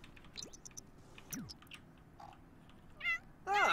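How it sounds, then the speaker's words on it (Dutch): A cat in The Sims 4 life-simulation game eating from its food bowl, with soft wet chewing and squishy bites, a few short meows and chirps, and louder cat vocal bursts near the end, no talk. "Wat voer geven aan Fleur, maar je hebt hier een bak"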